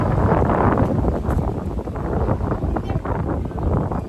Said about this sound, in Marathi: भरपूर प्रमाणात वारं सुटलंय